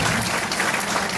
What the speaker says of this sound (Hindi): उनके नाम पे तालियां होनी चाहिए।